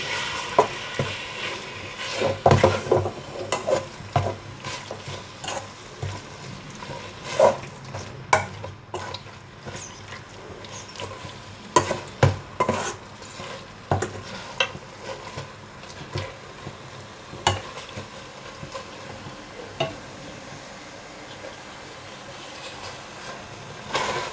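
Fragrant spice paste is stir-fried in a pan, with loud, irregular scraping strokes from stirring over a soft sizzle; close and steady, with no one speaking.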